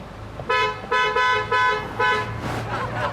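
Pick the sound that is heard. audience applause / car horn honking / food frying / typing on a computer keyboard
car horn honking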